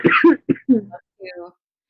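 A short burst of throaty coughing, several rapid coughs close to the listener, followed by a quieter rasping cough as it trails off.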